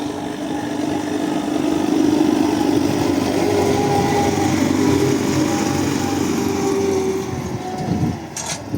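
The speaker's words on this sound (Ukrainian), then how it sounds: "культиватор лізе і трактору трошки тяжко" An MTZ-1221 tractor engine drones steadily under load nearby, pulling a 6-meter cultivator, a low continuous rumble with slight strain, with wind noise in the background.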